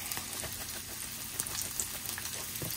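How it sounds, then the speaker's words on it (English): Chicken and potato stirred in a frying pan with salt and pepper give a soft, constant sizzle with light crackles and faint scraping, heard alone and fairly quiet. "You're just going to stir it up in a frying pan, a little salt and pepper."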